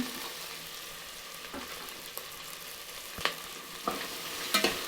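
Capsicum fries in a cooker with onion and ginger garlic paste for vangi bath, making a soft, steady sizzle broken by several louder scrapes and knocks as the mixture is stirred.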